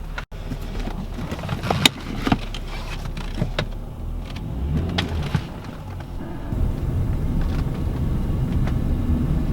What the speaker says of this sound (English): we're gonna give it our first test drive